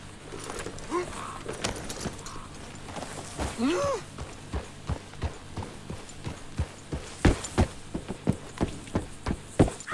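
Horse hooves clip-clop in a steady, quickening rhythm, close by, with a brief voice-like sound early on, from the video game Red Dead Redemption.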